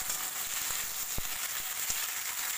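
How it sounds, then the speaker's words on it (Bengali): Onion and capsicum fry in a pan with a soft, even sizzle and a couple of faint utensil taps. The sound is quiet and close, with no talking. "দেখো এখানে পেঁয়াজ আর ক্যাপসিকাম কিন্তু ভাজা হয়ে গেছে।"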